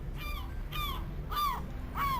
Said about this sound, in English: Wow, that is one loud seagull noise.